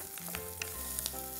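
Bottle gourd fries in oil with a faint, even sizzle and a few light stirring touches, quiet and close throughout the short stretch.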